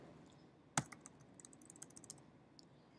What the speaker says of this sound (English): if I hit X on the keyboard